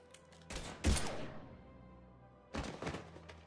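Video-game gunfire from Mass Effect 3: a sharp, loud burst of shots near the start, a decaying tail, then another cluster of rapid shots toward the end.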